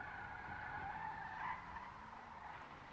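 A rocket-boosted Voltic sports car in a video game gives a steady, sustained engine whine with a rising pitch and a tire-skid hiss, heard alone at moderate volume.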